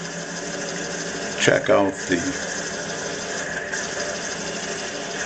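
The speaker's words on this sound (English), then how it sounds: "I'm going to drill this about a ½ inch deep." A drill bores about half an inch into a plastic radio knob at roughly 400 RPM, giving a steady, moderate motor hum. A person speaks over it.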